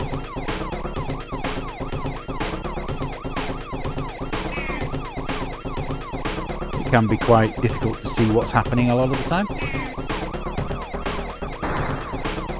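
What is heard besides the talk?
police car sirens in Amiga video game Cisco Heat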